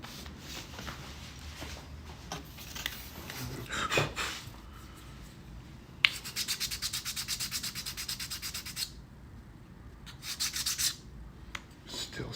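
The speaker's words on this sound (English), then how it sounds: "Still sanding." Hand sanding in a studio build: rhythmic back-and-forth rubbing strokes, close and steady, with bursts of faster scratchy passes and a few knocks.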